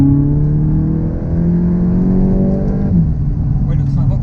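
A VW Golf 8 GTI Clubsport with a 300 hp turbo engine pulls hard from inside the cabin, its engine note rising steadily through the revs before a gear change, loud and close, with a voice speaking over it.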